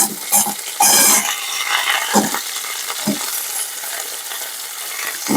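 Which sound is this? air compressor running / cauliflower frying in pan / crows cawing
cauliflower frying in pan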